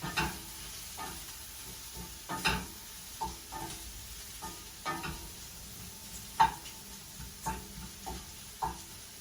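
Mushrooms with salt frying in a pan, a steady soft sizzle broken by a series of sharp scraping and stirring clicks at irregular intervals, close and alone with no voices.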